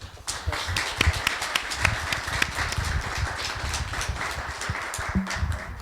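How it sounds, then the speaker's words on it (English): An audience at a fireside chat gives a round of applause, a dense patter of fairly close hand claps starting suddenly and continuing steadily through the stretch. "let's give a round of applause for"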